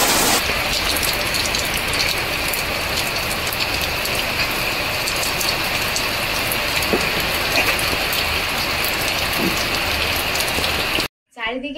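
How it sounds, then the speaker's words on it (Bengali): Heavy rain pours down in a steady, loud hiss beside a home kitchen, continuous throughout before cutting off abruptly near the end. "কিন্তু এদিকে খুব জোরে বৃষ্টি হচ্ছে"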